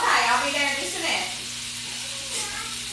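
Butter sizzling and starting to brown in a pan for homemade potato soup, a steady crackling hiss that swells briefly a couple of times.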